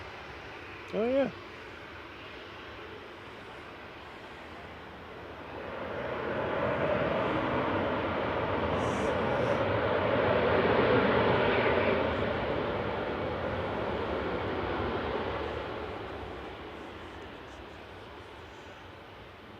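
An airliner, registration OO-SSB on flight 2173 from Brussels, lands at Manchester Airport; a broad engine roar swells in from the distance, peaks loudly at mid-clip, then fades. A short spoken remark comes early.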